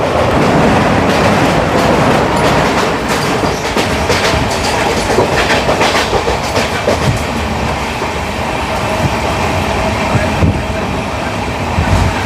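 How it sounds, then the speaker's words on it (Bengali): The Uttarbanga Express, running in a new LHB coach between Kolkata and Coochbehar, heard from inside as a loud, continuous rumble with a steady clickety-clack of wheels over rail joints. "ট্রেন বেশ স্মুথ গতিতে চলছে একদম আর ভেতরে যে জার্কিং কোনো কিন্তু একদম ফিল হচ্ছে না"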